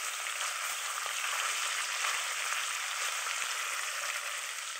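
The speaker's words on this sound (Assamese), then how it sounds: "মই ধুনীয়াকৈ এতিয়া ফ্ৰাই কৰি ল'ম মাছখিনি।" Fish pieces frying in oil in a pan, a steady broad crackling sizzle throughout with small pops, close and even in level, no voices.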